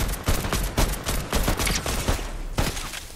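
Rapid bursts of gunfire crackle in an online shooter video game, several overlapping volleys firing in quick succession, moderately loud and with no talking over them.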